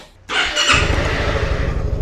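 A Honda Forza 250 2020 scooter with a 250 cc single-cylinder engine starts up abruptly and then runs on at a steady, even idle, close and fairly loud.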